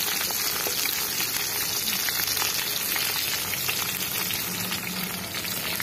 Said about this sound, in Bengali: তো আমাদের মাংসের জন্য আলুটা ভাজা হচ্ছে